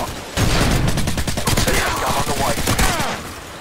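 Rapid Spaz 12 shotgun blasts in a Modern Warfare 2 multiplayer match, a quick burst of several loud close shots in fast succession amid other game gunfire.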